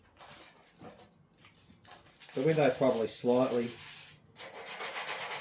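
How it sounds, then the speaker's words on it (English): Abrasive scuffing of aged epoxy primer on metal guards, a dry rasping rub in close, steady strokes that grow louder midway, with a brief voice early on. "But just scuff that epoxy primer."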